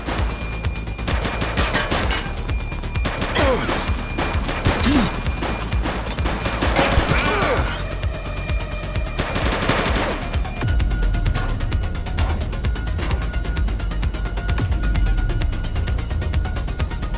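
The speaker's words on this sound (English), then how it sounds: "Shots fired!" A police gunfight in the video game The Precinct fills the whole stretch with loud, continuous rapid gunfire: overlapping shots and automatic bursts with occasional heavier crashes and no pause.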